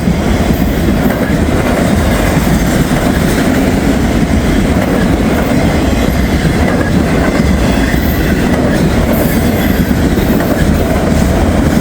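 A freight train hauling big articulated auto rack cars, mostly empty, rolls past close by, its loud, steady rumble and clatter of wheels on rails filling the whole stretch without a break.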